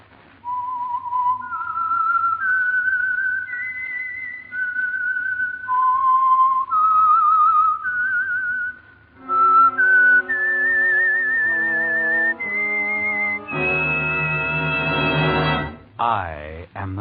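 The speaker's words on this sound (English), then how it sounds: "the signal to listen for is this whistle that identifies the Signal Oil program" A lone whistler carries the signature tune of The Whistler radio program for Signal Oil, a slow, eerie melody of sustained notes that shifts into a richer orchestral passage with brass and strings toward the end.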